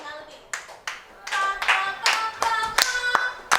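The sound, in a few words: hands clapping a rhythm in music class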